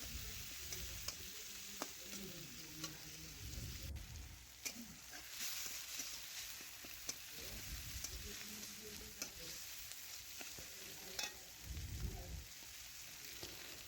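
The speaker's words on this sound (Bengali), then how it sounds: "এটাও ভালোভাবে নাড়াচাড়া করে পেঁয়াজের সাথে মিশিয়ে নেব" Chopped tomato and onion stirred in a hot frying pan, a steady close sizzle with scraping spatula strokes and clacks running throughout, no talking.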